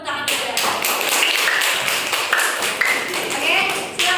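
Classroom applause from students after a group presentation in an Indonesian language lesson, a dense patter of many hands clapping steadily for about four seconds with voices mixed in.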